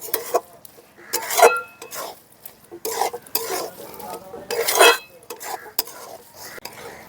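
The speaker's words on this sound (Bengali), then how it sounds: "দু মিনিটের মতন নাড়াচাড়া করে তাহলে তৈরি হয়ে যাবে আমাদের গাজরের হালুয়া।" Carrot halwa stirred in a pan, bursts of spatula scraping and clinks against metal in an uneven rhythm, close, with soft sizzling between strokes.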